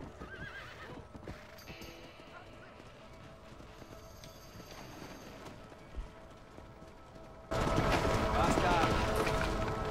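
In Red Dead Redemption, hooves clip-clop in a steady galloping rhythm, a horse whinnies, and a louder rushing wash swells in near the end.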